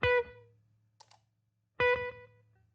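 Two dry electric guitar notes ring out with the delay pedal off, separated by a pause and a faint click, each decaying quickly with no echo trailing behind.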